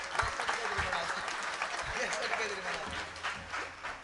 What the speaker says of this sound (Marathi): त्यांच्यासाठी कोणी वाजवायच्या टाळ्या